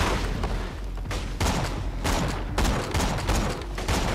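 Rapid sniper rifle shots in the Borderlands 2 video game, a quick series of loud booming reports with brief gaps between bursts, heavy and dense throughout.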